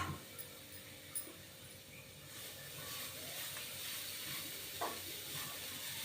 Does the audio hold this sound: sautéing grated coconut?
yes